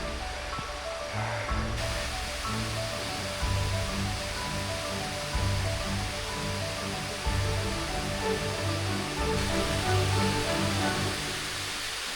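A continuous roar of a waterfall on Gujeolsan mountain, South Korea, broad and steady, filling the whole scene without pause.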